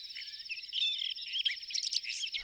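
Crickets chirping in grass, a continuous high, fine-grained trill that holds steady from start to finish at a moderate, slightly distant level, with no voices.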